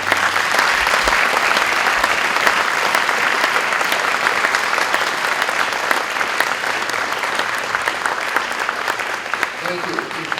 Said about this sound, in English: We'd like to give a round of applause to them.